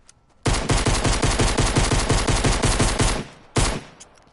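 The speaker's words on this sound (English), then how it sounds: "So, here we have a pistol." A pistol in a video game fires rapidly without trigger stops, a fast, loud, evenly spaced stream of shots for about three seconds, then a single shot after a brief pause.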